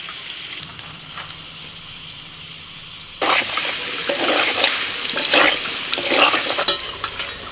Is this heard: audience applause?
no